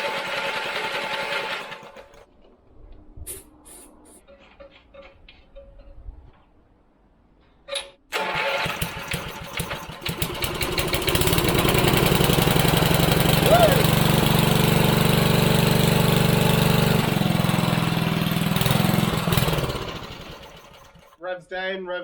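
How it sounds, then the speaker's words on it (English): The engine of an old 1970s ride-on lawn mower is cranked over with the spark plug removed, giving brief stuttering turns before a long steady mechanical whir, loud and close, with speech heard over parts of it. "I'm just going to turn the engine over with the spark plug off"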